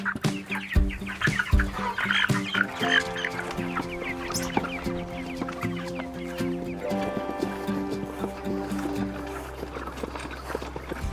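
Chickens cluck and murmur close by, with scattered sharper calls over a low steady hum, busy and irregular throughout.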